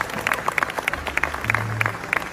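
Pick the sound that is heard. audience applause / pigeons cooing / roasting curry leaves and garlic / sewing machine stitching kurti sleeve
audience applause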